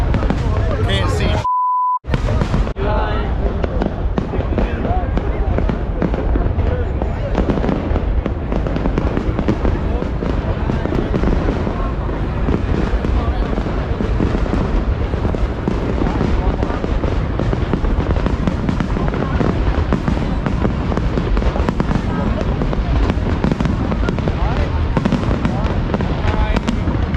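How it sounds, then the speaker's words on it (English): Tet fireworks burst over Hanoi's Old Quarter in a dense, continuous barrage of loud pops and crackles, with a short beep near the start and crowd voices mixed in throughout. "One of the best fireworks displays I have ever seen"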